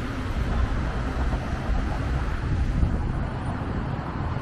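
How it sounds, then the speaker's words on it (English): Strong wind rushes across a city crossroads beside the Baroque Harbour Gate in Szczecin, Poland, a dense continuous buffeting roar on the microphone with faint traffic beneath, no talk. "Oh, that wind is terrible."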